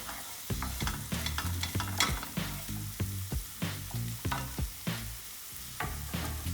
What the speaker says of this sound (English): Now once that's sizzling away